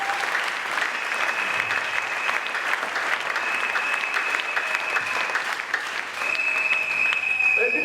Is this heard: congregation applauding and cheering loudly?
yes